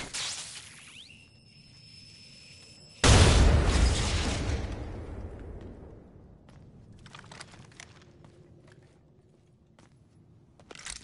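A grenade blows up in the video game Apex Legends with a single loud, sudden blast that decays over a few seconds into a fading rumble, followed by faint clicking and small mechanical noises.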